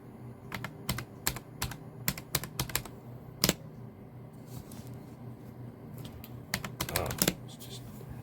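Someone types a password on a computer keyboard, with quick irregular bursts of close, crisp keystrokes and short pauses between them, over a soft room hum.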